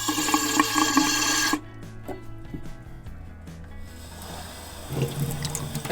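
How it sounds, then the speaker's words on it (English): An RV's hot water tap opened for the first time after winterizing with antifreeze: a loud rushing, sputtering gush that cuts off abruptly, then quieter trickling and knocking before water surges again near the end. "I turned on the hot water for the first time"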